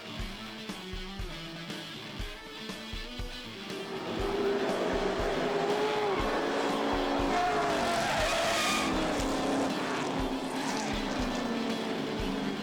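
A race truck spins out after contact on a racetrack, its tires squealing over loud, sustained engine roar that swells midway and stays dense and close to the end.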